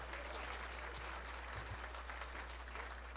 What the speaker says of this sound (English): Kara, round of applause for baby Kara right there.